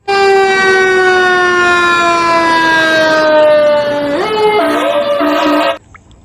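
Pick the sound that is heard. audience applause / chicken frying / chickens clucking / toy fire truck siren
toy fire truck siren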